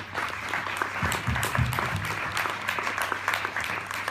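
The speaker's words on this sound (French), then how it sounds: "Donc, on peut les applaudir." Audience at a short-film festival evening applauds the jury, sustained dense clapping with sharp individual claps standing out, a low hum and a brief murmur underneath.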